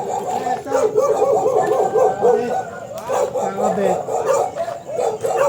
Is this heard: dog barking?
yes